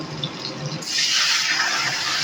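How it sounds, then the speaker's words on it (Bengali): Hot water poured into a pan of drumstick and potato curry, a soft rush that swells into a steady, bright pouring stream after a brief quieter start. "এখন আমি এর মধ্যে দিয়ে দিব গরম জল"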